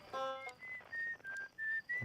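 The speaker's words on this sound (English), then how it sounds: "Whistling." Whistling music from the video game Outer Wilds, a series of clear sustained whistled notes in a slow melody with soft gaps between phrases, fairly quiet and without talk.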